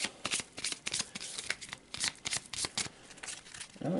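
A deck of cards being shuffled close up, several rapid riffles and rustling bursts in a steady run, with almost no talking.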